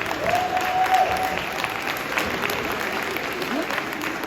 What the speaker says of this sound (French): On peut l'applaudir franchement.